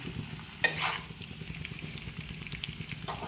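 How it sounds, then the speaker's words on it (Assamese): Pasta being stirred in a pan as cheese melts into it, with a soft sizzle throughout and a brief louder scrape of the spoon early on, fairly faint and close with no talking. "এতিয়া মই এইখিনি ভালকৈ মিক্স কৰি দিছোঁ আৰু চিজটো ভালকৈ গলি"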